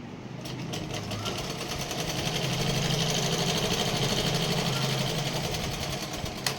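A sewing machine stitches the side seams of a chudidar in one fast, even mechanical chatter, running close and steady for several seconds with a faint clunk at the end.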